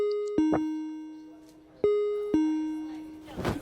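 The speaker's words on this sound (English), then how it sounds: "There's a weird noise for a bell." Electronic bell chiming with an odd, unusual tone: two pairs of sharp two-note dings, each fading slowly, spaced about a second and a half apart, followed by a brief burst of noise at the end.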